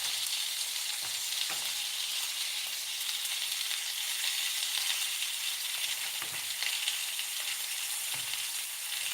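Dredged liver and onions fry in a cast iron skillet, giving a dense, even hiss of sizzling oil throughout, with a few faint taps from turning the pieces, no voices.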